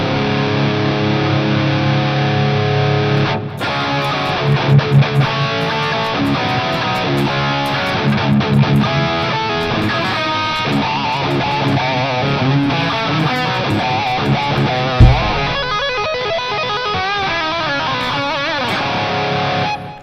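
Drop-tuned electric guitar played through distortion effects in BIAS FX amp software, a dense, saturated stream of chugging riffs and sustained chords, loud and continuous with brief pauses.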